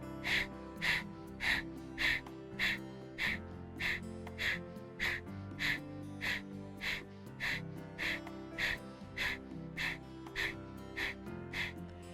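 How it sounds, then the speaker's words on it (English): Breath of fire breathing exercise: rapid, evenly spaced forceful nasal exhalations, about twenty sharp puffs in a steady rhythm, close and fairly quiet over soft background music. "Breath of fire."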